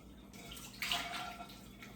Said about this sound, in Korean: 한 50년 된 거 같은 샤워기 쓰고 있어요